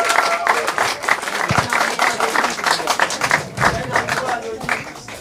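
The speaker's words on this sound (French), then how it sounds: "Est-ce qu'on peut faire un tonnerre d'applaudissements pour Anonyme" Audience at a slam poetry night applauding a poet, a lively crowd of clapping with scattered louder claps, fairly close and steady, tapering slightly at the end.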